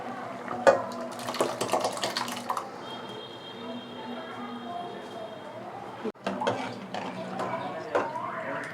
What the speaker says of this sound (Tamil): வாங்க பருப்பை ஊற்றிடலாம்.